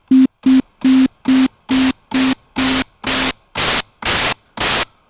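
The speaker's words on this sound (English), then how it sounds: "now we have to change the wave shape and it's going to get progressively noisier" A MODAL CraftSynth 2.0 synthesizer plays a row of eleven short, evenly spaced notes that start as a clear tone and grow steadily noisier until the last ones are pure hiss.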